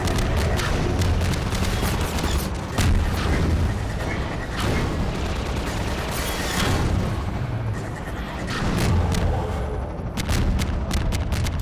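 Combine energy balls tear through synths in Half-Life 2: loud, dense bursts of booming impacts and sharp crackling blasts, layered mechanical clatter and rumble with repeated percussive hits, no talk.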